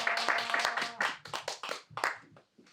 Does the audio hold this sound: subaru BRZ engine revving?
no